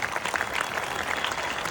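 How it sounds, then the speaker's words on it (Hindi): A live audience applauds for the state on Uttarakhand Day, a steady dense wash of clapping hands at moderate loudness throughout, with no pauses or voices on top. "तालियां बजाओ अपनी स्टेट के लिए"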